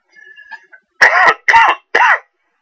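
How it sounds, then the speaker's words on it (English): Three loud, rough coughs in quick succession, close to the microphone, preceded by a faint high tone and soft noises. "Now, cough out of nowhere."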